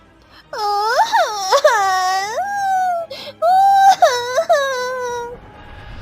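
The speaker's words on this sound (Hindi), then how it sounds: "ये बच्चों के रोने की आवाज कहाँ से आ रही है?" Children wail and cry in a cartoon, a loud, sustained, rising-and-falling moaning sob with several sharp upward breaks, carrying on for several seconds almost without pause.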